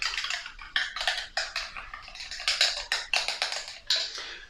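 Coca-Cola, Sprite and cream soda stirred together into a homemade Nuka Cola: quick, bright clinks and scrapes of a utensil against a glass or jug, coming in a brisk, uneven rhythm, close and fairly quiet with no talking.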